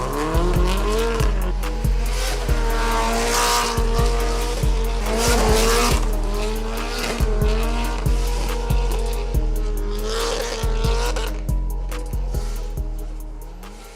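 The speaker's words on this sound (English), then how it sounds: "You go drifting, pal." Nissan S13 rear-wheel-drive sports car drifting, tires squealing loudly and continuously while the engine revs in repeated bursts with gear changes, close and sustained.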